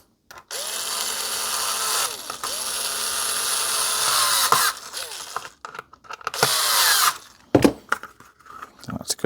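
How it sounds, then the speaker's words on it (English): Power drill driving in posts while making a holster, several whirring bursts of varying length with pitch rising and falling, broken by short pauses and a few sharp clicks near the end. "get our drill."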